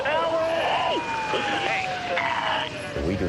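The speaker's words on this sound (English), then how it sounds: "I can hear your sirens" Fire engine sirens wailing during a New York fire rescue, a loud rising and falling tone sweeping close by, with voices talking over it.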